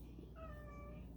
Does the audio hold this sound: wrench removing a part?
no